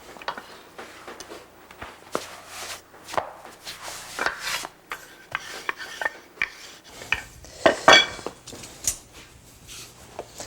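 Dough being rolled out with flour, a series of uneven rasping rubs and soft knocks of the rolling pin on a board, close and intermittent, without talk.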